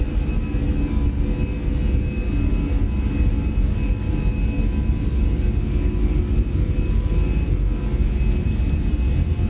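Jet airliner engines spool up to takeoff thrust in a flight simulator game, an EasyJet departure from Belfast, producing a loud, steady roar with a constant whine, continuous and unbroken.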